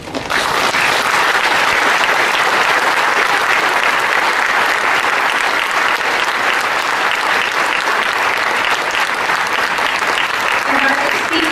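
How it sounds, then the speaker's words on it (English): Loud, sustained applause from the audience at the signing of a peace framework agreement between government and MILF negotiating panels, a dense steady clapping that fills the whole stretch alone. "Please join me in applauding"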